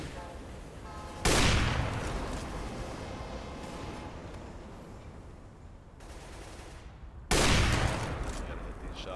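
Dense rapid gunfire from a tactical multiplayer shooter match rattles continuously, with two sharp bursts of heavier fire punching in near the start and again toward the end, loud and close throughout.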